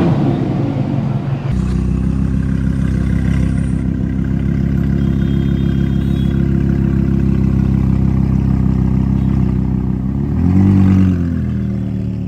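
Ford Mustang engine running, a loud deep steady idle with a low throbbing rumble close by, rising briefly in a small rev near the end before settling again.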